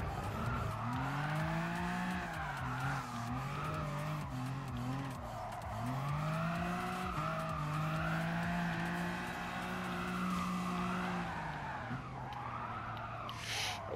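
BMW M4 drifting in Gran Turismo Sport, a continuous engine howl that rises and falls with throttle under long squealing tyre slides, loud and close throughout, easing off near the end.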